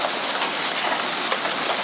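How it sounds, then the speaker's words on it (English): Sudden hail falls outside an apartment, a dense, steady patter and hiss of ice striking surfaces, loud and continuous with no voices. "It is hailing."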